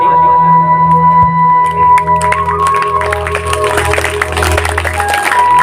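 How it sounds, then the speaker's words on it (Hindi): Yoga camp participants clap together in a steady rhythm, a loud continuous wash of many hands with a sustained tonal drone and some voices mixed in. "ताली।"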